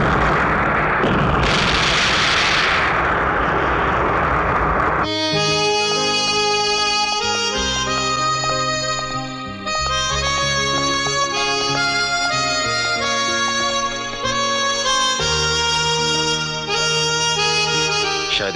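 A huge explosion blowing up a whole building in a Shah Rukh Khan action film, a loud roaring blast lasting several seconds before dramatic orchestral music takes over.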